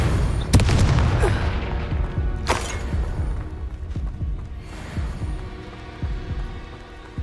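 Spell explosions from the Confringo fire spell in the video game Hogwarts Legacy: repeated heavy booming blasts and thuds over a throbbing low rumble of combat, sharp bursts near the start then rolling impacts throughout.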